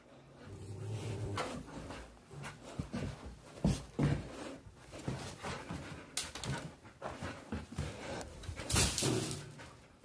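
A dog snuffles, pants and whimpers up close, with scattered rustling and handling noises in between.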